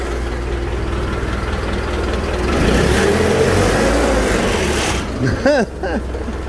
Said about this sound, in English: Here, let's give her a rev.